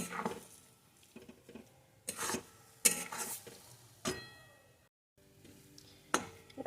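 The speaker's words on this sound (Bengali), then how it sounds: "আস্তে আস্তে করে ভাজতে হবে যতক্ষণ না গাজরের গন্ধটা দূর হয়ে যায়" Grated carrot slowly frying in a pan for carrot sandesh, with soft intermittent spatula scrapes and stirring over a faint, low sizzle, quiet and close.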